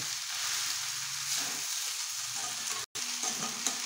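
Sabudana pulao for a fasting meal is stirred and fried in a pan, giving a steady close sizzle with soft scraping throughout, broken by a split-second dropout near the end.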